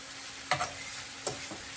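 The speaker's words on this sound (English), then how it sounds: "we are sauteing this beef and shrimp and butter" Beef and shrimp sautéing in butter in a pan on medium heat give a steady close sizzle, broken by two sharp scraping stirs about a second apart.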